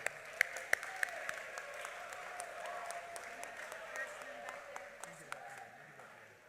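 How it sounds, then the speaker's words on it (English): Audience applause for the junior class at a high school underclass awards ceremony, a steady, moderate patter of clapping from a seated crowd with a few sharper claps standing out early, holding evenly throughout. "One more round of applause."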